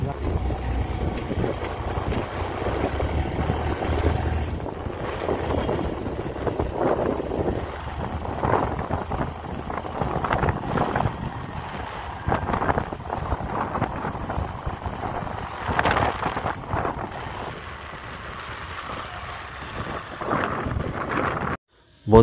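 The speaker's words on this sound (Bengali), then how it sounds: "বাইক চলছে তার সাথে যে হাওয়াটা লাগছে গায়ে" Steady rushing wind buffets the microphone while riding a motorbike to a customer's location, a continuous broadband roar with engine rumble beneath, loud and unbroken until it cuts off at the very end.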